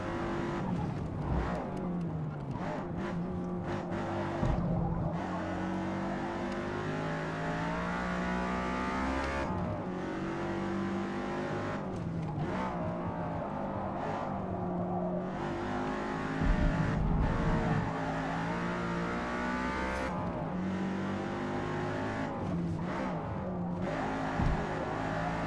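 A Ford GT race car in Forza Motorsport is driven hard, its engine revving up and down through gear changes and rising hard in pitch over a long, continuous stretch with no voices.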